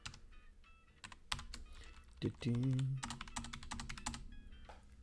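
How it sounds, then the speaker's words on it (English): Fast, close clicks of a computer keyboard as a code is typed, coming in bursts with short gaps, while a voice briefly speaks in the middle. "Now I know I'm typing into the whisper window."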